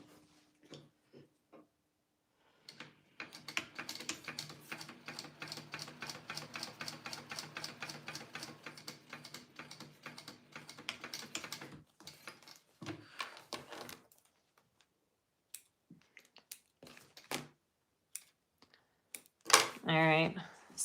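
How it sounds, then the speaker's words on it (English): A sewing machine stitches beneath the card slot of a handmade wallet, running in a fast, steady burst of clattering needle strokes for several seconds, then stopping for quieter handling sounds. "I'm going to sew under this card slot."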